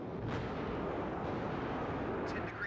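Continuous rumbling artillery fire in the video game Warno, a heavy, sustained low boom wash lasting throughout at a steady loudness with no speech over it.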